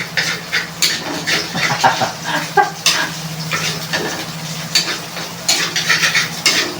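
An egg fries in a pan with a steady sizzle, broken by repeated scraping and clinking of a utensil against the pan, all close and fairly loud.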